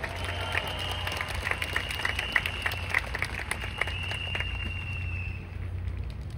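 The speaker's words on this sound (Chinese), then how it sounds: "我们给 IV 一个最热烈的掌声" Dense, continuous clapping from a big banquet crowd at Riway's 15th anniversary dinner in Kaohsiung, honoring IV, holding steady at a fairly loud level throughout with a faint sustained tone running underneath.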